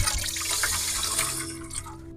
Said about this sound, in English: Last chore is wash out the pan and we'll pack up and leave.